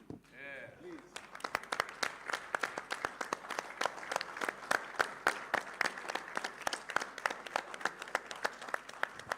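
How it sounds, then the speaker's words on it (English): Standing ovation from the audience at a World Memon Organisation event, with dense, continuous clapping that rises after a brief voice at the start and holds steady and loud throughout. "We will give you a standing ovation for you."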